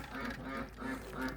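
Excited farmyard ducks calling on a cold day, a few rhythmic nasal quacks at moderate distance with no voices.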